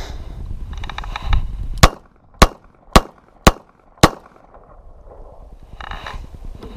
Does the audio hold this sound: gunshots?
yes